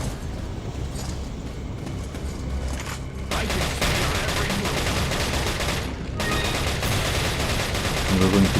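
Krauser fires continuously in Resident Evil 4 game combat: dense, loud, sustained gunfire bursts with a brief lull around the six-second mark before the shooting resumes.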